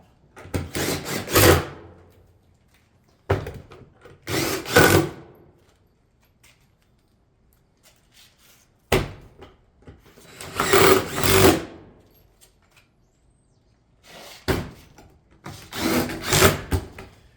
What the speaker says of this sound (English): over the top, over our pipe flashing, and go ahead and fasten the panel